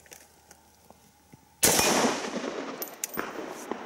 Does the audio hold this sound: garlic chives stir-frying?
no